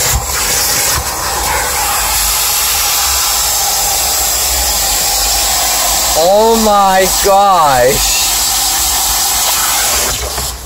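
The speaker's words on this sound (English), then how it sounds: "That's a pretty powerful vacuum." A powerful vacuum at a Canadian car wash roars with a loud steady hiss and rush of air, with brief exclamations from a person partway through.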